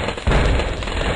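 Dense, continuous rumbling explosions and crackling bursts in the video game Bloons Tower Defense 4, loud and sustained, with a sharp jump in intensity partway through and no voices.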